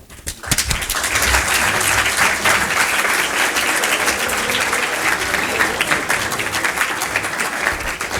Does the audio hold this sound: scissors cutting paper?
no